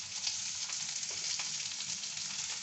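Small fish frying in a pan with green chili, garlic and onion, a steady dense sizzle with crackling bursts, close and continuous.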